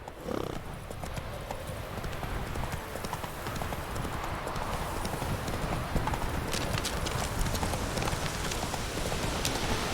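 Hooves of Roach, the horse in the game The Witcher 3, clip-clopping in a steady brisk rhythm throughout, with rain pattering in the background.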